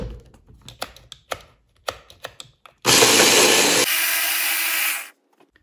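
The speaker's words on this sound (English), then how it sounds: "Take care that the garlic and the lemon juice is nicely blended." A kitchen blender purées garlic and lemon juice for hummus. A few light taps and clicks come first, then the motor roars loud and close for about two seconds and settles into a slightly lower, steady whir before stopping.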